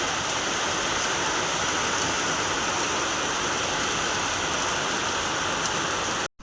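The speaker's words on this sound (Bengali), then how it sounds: "বাইরে অঝোর ধারায় বৃষ্টি হচ্ছে সকালবেলাতে প্রচণ্ড বৃষ্টি হচ্ছে" Heavy rain pours down in a steady, dense roar, loud and unbroken throughout, then cuts off abruptly at the very end.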